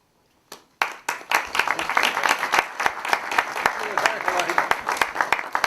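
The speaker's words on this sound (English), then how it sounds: "It's the first applause I've received in a long time" Audience applause greets the editor of the Lowell Sun as he reaches the podium at a debate, breaking out abruptly after a brief silence and continuing as a steady, moderately faint patter of many hands.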